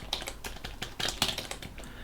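Keys clacking on a computer keyboard as a command is entered in a Linux terminal, with a quick, uneven run of close, crisp taps and a few louder strikes.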